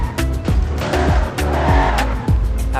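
Loud racing engine of a Porsche GT3 RS in a car simulator game, revving hard with repeated sharp downward sweeps like gear shifts, steady roar with tire squeal, no talking.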